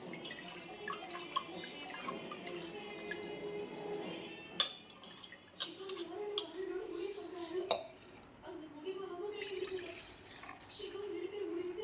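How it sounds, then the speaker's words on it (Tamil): Rice is washed in water in a kitchen: soft splashing, drips and occasional clinks of a pot or vessel, with a voice talking throughout. "நம்ம அரிசியை கழுவிக்கிட்டு இருக்கோம்."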